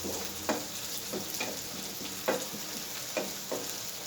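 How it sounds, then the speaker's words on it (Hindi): Tomatoes with turmeric fry steadily in a pan for an egg and vegetable bhujia, a close, even sizzle broken every second or so by brief stirring scrapes and louder spits. "इनको भी मैं थोड़ी देर के लिए पकाऊंगा"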